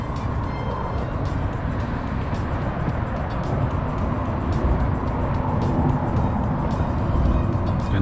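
Steady road traffic passes close beside a narrowboat moored next to a road on the Trent & Mersey canal, a continuous broadband rumble of cars and vehicles with no clear gaps and no talk.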